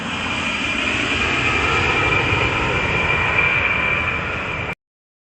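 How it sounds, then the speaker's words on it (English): Military jet landing on a highway during a Michigan Air National Guard training exercise, a steady loud roar of jet engine noise with a high whine held for about five seconds before cutting off abruptly. "a jet makes a smooth landing on the highway"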